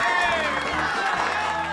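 Studio audience applause greets a guest on a live morning show, a brief steady burst of clapping and crowd noise with a host's voice over it.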